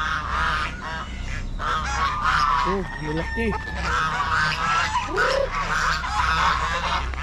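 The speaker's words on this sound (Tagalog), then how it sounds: "May mga gansa pa, oh." Geese honk repeatedly in short nasal calls amid a busy barnyard din, with a person speaking briefly nearby.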